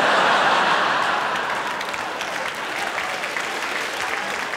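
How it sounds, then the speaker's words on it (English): Loud, sustained audience applause at a live stand-up comedy show, a dense wash of clapping that fades slightly and holds steady with a few chuckles mixed in. "I like that applause"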